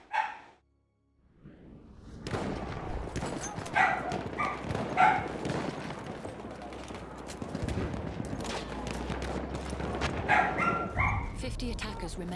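A dog barks and yips amid constant gunfire and battle noise in a Battlefield 1 game, the barks sitting under someone talking over the chaos.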